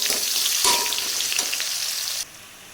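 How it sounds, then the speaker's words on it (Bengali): Onions sizzling and frying in hot mustard oil in a wok with whole garam masala, a bright steady crackle stirred now and then, fading sharply near the end. "এই পেঁয়াজটা আমি এর মধ্যে দিয়ে লাল লাল করে ভেজে নেব"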